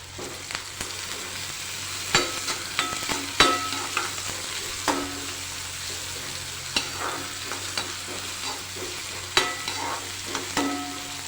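Carrots and capsicum stir-fried with chillies in a pan give a steady sizzle, punctuated by repeated spatula scrapes and taps at an irregular pace.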